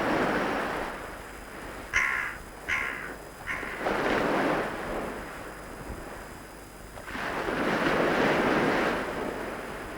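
A pied crow calls with a few short, harsh caws in quick succession, standing out over a steady roar of wind and surf on an open coast where fishermen work with ospreys.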